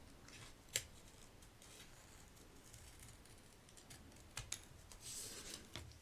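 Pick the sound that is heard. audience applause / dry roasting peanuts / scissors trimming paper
scissors trimming paper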